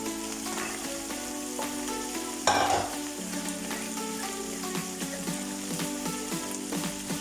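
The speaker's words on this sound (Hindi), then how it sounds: "थोड़ा दोनों को अब मिक्स कर लेंगे। साथ ही डाल देंगे सब्ज़ मिर्चें जो हमने नमक और हल्दी लगा के उनको भी रखा हुआ था।" A pickle mixture with green chilies sizzles in a pan while a spoon scrapes and stirs in repeated strokes, with one louder clatter partway through over the steady frying hiss.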